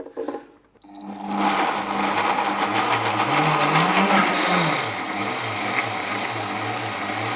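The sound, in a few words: food blender running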